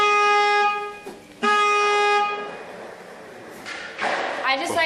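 Several car horns honk in long sustained blasts with short gaps, loud and close, during a lively honk party, with fainter thumps and clatter later.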